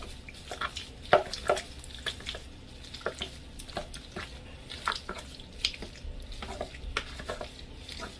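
Mac and cheese with milk and several cheeses being stirred in a pot, giving soft scraping and wet sloshing with occasional light clinks of the utensil against the pot, at a steady moderate level.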